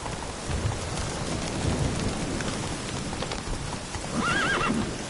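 Geralt's horse Roach gallops through rain in The Witcher 3: Blood and Wine, with steady hoofbeats under rainfall and a distant rumble, then a clear whinny near the end.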